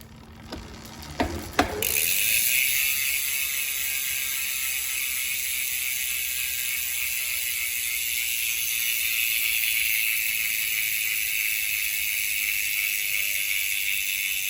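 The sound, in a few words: bicycle freehub ratchet clicking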